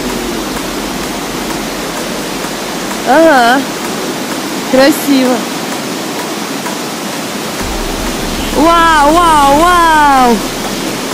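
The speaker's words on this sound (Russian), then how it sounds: "Водопад!" A steady, broadband roar of a waterfall in the Chegem Gorge, Kabardino-Balkaria, fills the whole clip, with excited voices exclaiming over it a few times.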